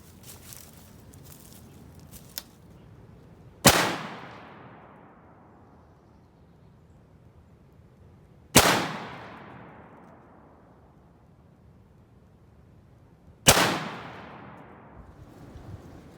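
Three rifle shots from a Steyr AUG fired at a 175-yard target from a sandbag rest, each a sharp, loud crack with a long decaying echo, spaced about five seconds apart.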